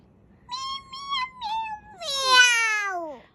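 A child's high, wavering voice mimics a cat's meow in a few drawn-out cries, the last one long and sliding down in pitch, with no other sound.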